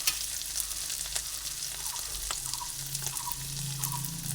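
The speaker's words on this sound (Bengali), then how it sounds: "হলুদও একসঙ্গে আদার সঙ্গে ভেজে নিচ্ছি" Ginger and turmeric powder frying together in hot oil for a vegetarian curry, a dense continuous sizzle with soft stirring knocks, close and without talk.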